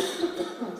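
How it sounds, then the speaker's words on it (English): A single brief, muffled cough at a climate action event, followed by a few quiet breathy throat sounds, close and soft. "I'm going to cough again."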